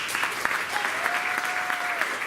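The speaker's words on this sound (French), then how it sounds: "Achoura, sous vos applaudissements." An audience at a dinner event claps continuously, a dense, fairly loud wash of applause with a faint whistle riding over it for about a second.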